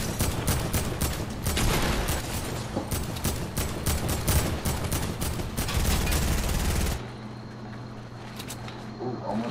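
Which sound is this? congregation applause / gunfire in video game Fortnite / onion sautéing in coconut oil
gunfire in video game Fortnite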